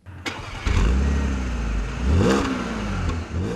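An Audi S4 with a supercharged 3-litre V6 starts and revs hard, a close, loud engine roar that climbs in pitch, surges again midway and settles back, with no voices over it.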